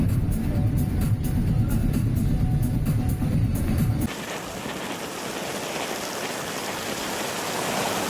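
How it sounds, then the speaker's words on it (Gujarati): Monsoon rain falls during a drive through misty mountains: a low in-car rumble with regular ticking comes first, then the sound opens into a loud, dense, continuous rain hiss that stays steady. "વરસાદ બી ફાસ્ટ થઈ શકે ને એવું છે."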